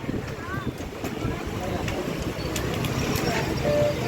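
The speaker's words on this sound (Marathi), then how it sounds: "वारं एवढं जोरात काय?" Strong wind buffeting the microphone in a steady rushing roar over the water of Khadakwasla Dam, growing slightly louder, with distant voices and faint chirps.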